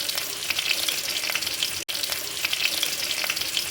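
Onions frying in oil for a medicinal Karkidaka rice porridge, a loud, dense, steady sizzle with fine crackles, close up and uninterrupted apart from one momentary cut.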